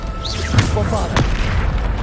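Bombarda blasting spell in Hogwarts Legacy: two deep, loud booming blasts about half a second apart, close and punchy, over a low rumble with a brief voice in between.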